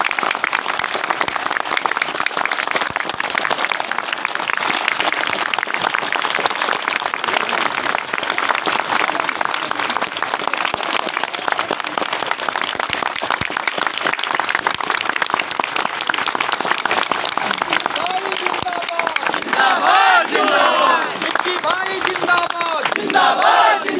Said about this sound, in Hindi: तो थोड़ा सा तालियों की गड़गड़ाहट से बताइए।